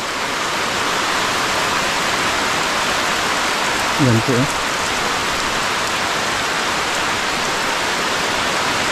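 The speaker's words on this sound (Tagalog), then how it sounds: "Yan mga kasama, bumuhos na ang malakas na ulan." Heavy rain pours down on a house in a dense, constant hiss, with a brief spoken phrase in Filipino near the middle.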